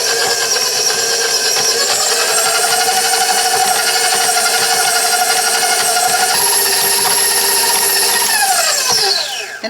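An electric mixer whirs loudly in a bowl of Christmas snowball cookie dough, starting on a low speed, then stepping up to a higher whine before winding down.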